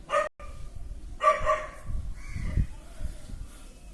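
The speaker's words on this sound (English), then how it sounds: "the dogs won't stop barking" A dog barks a few times, sharp yelps at first, then more muffled barking in the background, fairly close.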